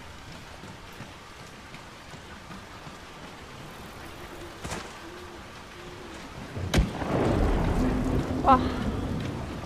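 Steady rain in the fantasy video game Dragon Age: Inquisition, broken by a sharp, loud thunder crack about two-thirds through, after which the rumble and rain swell; a voice gives a brief exclamation.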